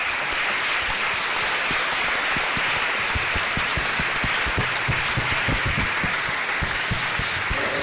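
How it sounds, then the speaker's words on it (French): Sustained, dense applause from a crowd honours veterans at an Armistice Day ceremony, an even, loud wash of many hands clapping without pause. "Je vous demande également d'applaudir les anciens combattants qui sont aussi présents aujourd'hui."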